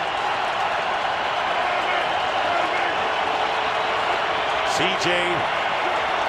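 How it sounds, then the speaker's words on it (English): Broadband roar of an NFL stadium crowd at a Seahawks at Broncos game in Denver, steady and loud throughout, with a commentator talking over it. "now listen to this crowd go wild"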